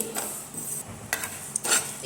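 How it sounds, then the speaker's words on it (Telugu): About ten peppercorns dry-roast in a pan, giving a soft hiss with scattered crackles and a few brief louder scraping stirs. "వీటిని ఇలా ఒక రెండు నిమిషాలు చిటపటలాడే వరకు వేయించుకుందామండి"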